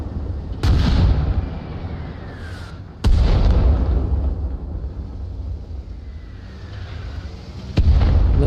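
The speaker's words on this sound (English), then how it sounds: "Tell you what, the mortars are coming back though." Mortar rounds thud and boom in the Arma Reforger video game, three heavy, sharp blasts spaced several seconds apart, each trailing into a low, rumbling decay under a constant dull background.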